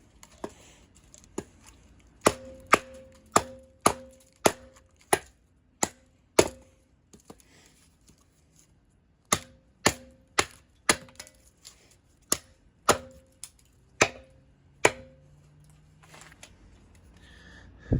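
Huntsman Woods knife chopping wood, sharp hollow close-up knocks coming in quick bursts of about a dozen strikes each, separated by a brief pause, with no talk.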